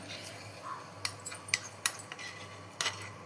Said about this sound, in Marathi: ही फोडणी आपण ह्या बटाट्यांवर टाकून घेऊया